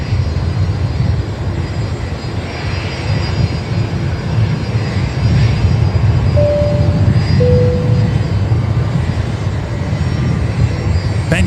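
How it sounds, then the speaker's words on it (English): A Bombardier Global business jet touches down at Brisbane Airport, its engine roar a loud, steady, broadband rumble that holds for the whole stretch at close range. "the Bombardier Global, mate, just touching down now"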